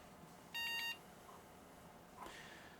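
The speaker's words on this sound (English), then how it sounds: "Typical beeps, it's basically doing some checks on some other things" A Dell Vostro 230 desktop computer gives a short electronic POST beep at boot, then a fainter chirp a moment later over quiet background hum.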